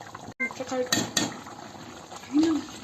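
A spoon stirs curry in a metal pot on the stove, bringing a few clinks and scrapes against the pot over soft bubbling. A voice speaks briefly.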